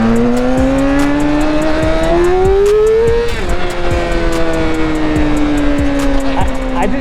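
A loud car engine revs up with rising pitch, briefly dips as it shifts without the clutch, then keeps roaring at high speed up close, with a voice faintly underneath.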